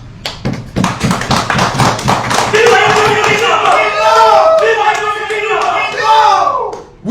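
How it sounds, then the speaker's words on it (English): Quick hand claps and slaps open loudly in a Ugandan parliament session, then give way to raised, shouting voices from a lively crowd that carry on over the noise. "we should be given a good clap"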